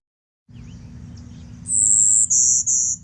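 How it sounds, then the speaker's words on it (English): A golden-winged warbler sings over a low background hum, a thin high buzzy note followed by two shorter buzzes in a bee-buzz-buzz pattern, loud and close. "So hearing Golden Wing again."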